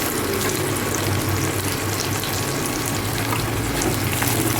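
Ingredients for fish curry, including fenugreek seeds and small onions, sizzle and fry in oil in a pan, a steady close crackling hiss with no talking.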